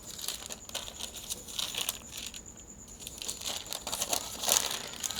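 Soft crinkling and rustling of puff pastry being folded over cheese by hand, close and quiet, with scattered small crackles and taps over a few seconds.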